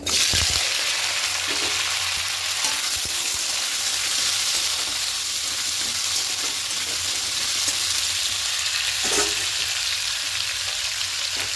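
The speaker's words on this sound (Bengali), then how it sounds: "দেখুন কড়াইয়ের সর্ষের তেল দিয়ে তেলটা গরম হয়ে গেছে প্রথমে আমি আলুগুলোকে একটু ভেজে নেবো লাল লাল করে" Potatoes fry in hot mustard oil in a wok, giving a loud, steady sizzle that runs the whole time, with a few brief stirring knocks and no voices.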